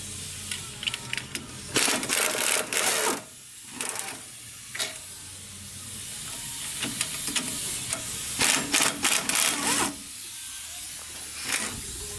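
A power tool loosens the 15 mm lower strut nuts on a Cadillac Escalade front suspension in short, loud, hissing, rattling bursts, separated by quieter pauses in a workshop.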